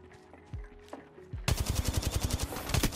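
Apex Legends gunfire: a few isolated shots and thuds, then a loud sustained burst of rapid automatic fire, close and dense, running to the end.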